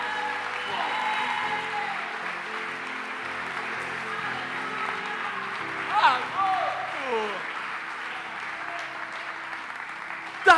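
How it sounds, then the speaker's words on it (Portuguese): A church audience applauds at moderate level, the clapping blending with voices and sustained tones, then swelling briefly near the middle before settling. "Pode aplaudir esse Deus maravilhoso aí."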